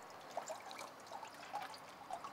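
Water trickles and dribbles out of a clogged sampling mesh, a faint, steady drain with small irregular splashes.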